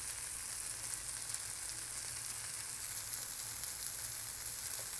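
Turmeric and chilli powder sauté in oil with softened onions for a prawn masala, giving a steady, even sizzle close to the pan and no talking.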